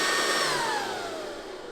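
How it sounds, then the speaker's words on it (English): Compressed air bleeds out of the hose of an HP Max airgun compressor in a strong, steady hiss with a faint falling whistle, easing slightly as it runs. "That bleeds the air out of this hose."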